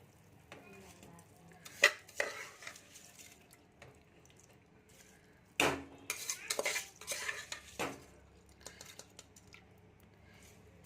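Kitchen sounds while washed rice is added to a pot of vegetable pulao: a few sharp clinks of utensils against metal, scraping, and a run of clattering and stirring in the middle, over quiet background.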